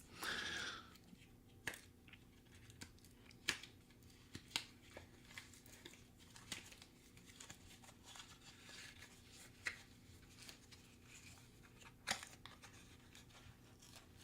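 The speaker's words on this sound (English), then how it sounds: "take me just a minute to peel this tape off" Tape being slowly peeled by fingernail off a small gadget package, soft sticky crackling broken by occasional sharp ticks and rips, close and quiet.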